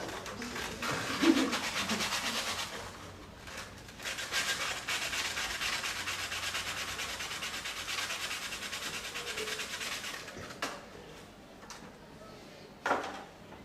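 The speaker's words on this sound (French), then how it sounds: "Poncer quelque chose qui est déjà poncé, hein, c'est toujours un moment fort." Sandpaper is rubbed over a wood surface that has already been sanded, giving steady, close scratchy abrasion that runs almost without pause and ends with a couple of brief knocks.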